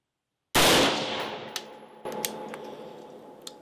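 A 5.56 rifle fitted with a Strike Industries Oppressor compensator fires one loud, close shot with a long echoing decay, followed by a second softer report and small clinks.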